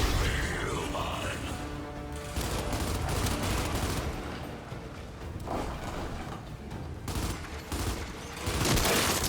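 Gears 5 gunfire on Xbox One: dense bursts of shots and impacts crowd together in a loud, continuous fusillade, with scattered thuds and crashes through the firefight.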